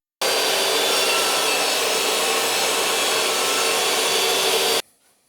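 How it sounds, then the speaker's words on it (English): Table saw cutting a 6mm-deep channel in plywood: a loud, steady, close whining roar of blade through wood lasting several seconds, then cutting off abruptly into quieter spin-down, no talking. "So I'm going to set the table saw up so the blade sticks at 6mm and just take that out"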